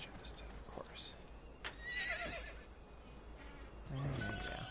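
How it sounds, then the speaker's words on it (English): A horse whinnies as the rider mounts in the video game Assassin's Creed 2, a short neigh rising over low game ambience with faint hoof and movement sounds. "as I mount my horse"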